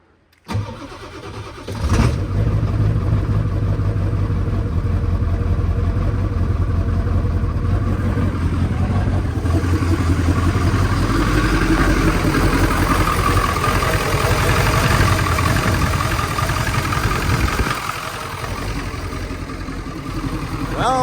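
A Honda S2000 fitted with a built K24a2 engine cranks and fires up, then settles into a loud, steady idle that carries on alone, close by.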